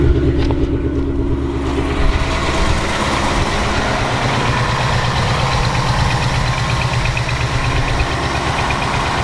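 A Ford Mustang engine, treated with Ceratec for its known tick, starts and settles into a loud, steady idle with a fast, even ticking rhythm running throughout, close up and without talk.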